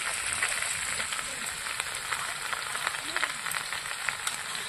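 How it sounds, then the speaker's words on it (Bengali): Fried vegetables sizzle steadily in a pan as ground poppy seed, mustard and ginger paste go in for a Bengali shukto, giving a continuous close hiss with light crackles throughout. "সবজিটা আমি ভালো করে ভেজে নিয়েছি। এখন দিয়ে দেবো এখানে বেটে রাখা পোস্ত, সর্ষে আর হচ্ছে গিয়ে আদা"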